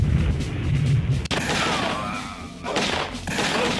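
Heavy gunfire and booming blasts from a laserdisc arcade shooter game fill the stretch loudly and densely, with a sharp break partway through before the barrage resumes.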